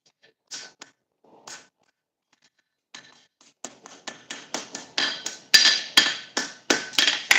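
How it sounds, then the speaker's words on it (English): A rounding hammer's round face strikes a metal leaf wall hook in a blacksmith shop, a few sparse taps first, then a steady run of sharp ringing blows that quicken and grow louder toward the end, close by with no talk. "I'm going to use the round face of my rounded hammer."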